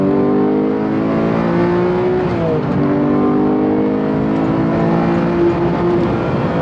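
A Porsche 911 GT3 Touring (991.2) engine revving hard and climbing through the gears on a highway on-ramp, loud and close with a rising mechanical whine.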